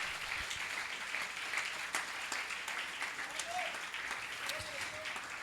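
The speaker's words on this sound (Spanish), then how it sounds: "¿Por qué no le damos una ofrenda de palmas fuerte al Señor?" A church congregation claps loudly and steadily at an anniversary closing service, broadband clapping filling the room throughout with a few brief vocal sounds rising above it.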